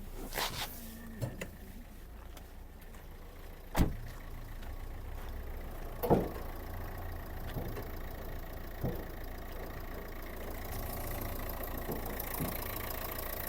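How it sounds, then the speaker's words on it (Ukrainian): A Renault Scenic 1.5 dCi diesel engine idles steadily, humming evenly throughout, with a few faint clicks and knocks over it and no talking. "Робота двигуна. Двигун працює чітко"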